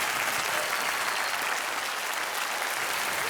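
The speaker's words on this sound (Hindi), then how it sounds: "तालियों के साथ इनका अभिनंदन।" Studio audience applause on a televised quiz show, a dense continuous patter of many hands clapping at steady loudness with no voices above it.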